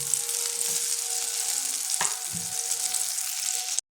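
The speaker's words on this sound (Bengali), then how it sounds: "এবার ধোকাগুলো এর মধ্যে আমি দিয়ে দেবো, দিয়ে ভেজে নেবো ভালো করে।" Lentil cakes (dhoka) sizzle in hot oil, a close, steady frying crackle with a brief stirring clatter midway, then an abrupt cut to silence.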